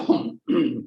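A man gives two short, close throat-clearing coughs in quick succession, with a brief pause between them while recovering from Covid.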